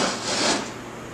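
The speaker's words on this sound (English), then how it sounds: "That's why I scribe it in." A scriber scrapes a thin line into a metal seat bracket for a BMW E36, a single close, gritty rubbing stroke that swells and fades.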